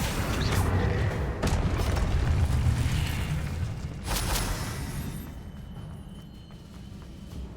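A Confringo spell explosion in Hogwarts Legacy, with a couple of sharp blasts and a rumbling burst that fades to a quieter ringing tail, near and loud with no talk.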